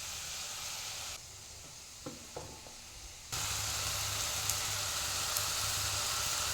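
Chopped tomato sautés with ginger garlic paste in a pan, a steady sizzle that dips quiet for a couple of seconds around a few soft knocks, then resumes louder and continues evenly.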